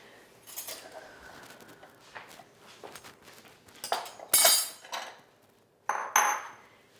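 A serving spoon clinks and scrapes against a baking dish while scooping out warm apple cobbler, scattered soft taps building to a few louder scraping knocks near the end.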